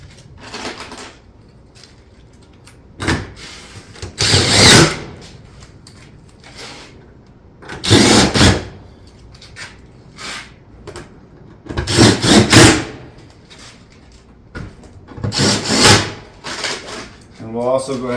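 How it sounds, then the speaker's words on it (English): Stone-coated EZ Vent roof panel in a Pine Crest shake profile being fastened through the front nose: several bursts of knocking and rubbing on the metal panel, each lasting about a second, spaced a few seconds apart, close and fairly loud with quiet gaps between. "So we'll go ahead and put this one on, fasten through the front nose."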